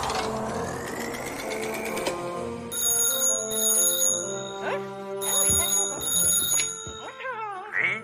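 A telephone rings with a bright electronic ringtone over a music background, repeating in regular bursts for several seconds.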